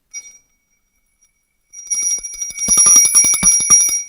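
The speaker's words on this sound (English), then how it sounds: "we are about to go to The London Stock Exchange opening bell" London Stock Exchange opening bell rings in rapid, bright repeated strikes, starting after a short near-silence and growing louder and denser toward the end, heard alone without talk.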